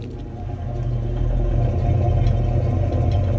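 V10 woodgas-powered truck engine creeping along at low RPM, a loud close steady rumble with a deep throb and even pulsing, no voices over it.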